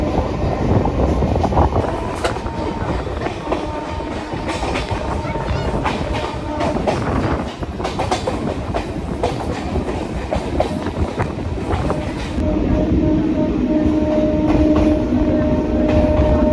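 A Kolkata Circular Railway train passes close by near a level crossing along the Hooghly river, its loud continuous rumble and rhythmic clickety-clack of wheels filling the whole stretch.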